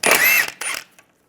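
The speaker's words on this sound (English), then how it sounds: "Now take your wheel lock key, find your wheel lock. Take that off first using a 17mm socket." A socket ratchet with a 17mm socket takes off the wheel lock on a 1998-2010 Volkswagen Beetle: a close, quick burst of clicking, a short pause, then a second brief burst, with no talk.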